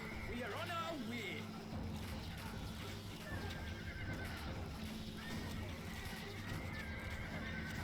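Horses neigh and whinny in a video game battle, with several close, loud calls over galloping hooves and steady combat noise, while someone talks throughout.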